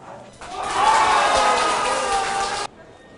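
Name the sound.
crowd cheering in Mokpo station waiting room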